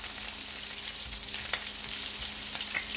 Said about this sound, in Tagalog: pag-prito ng ating prawns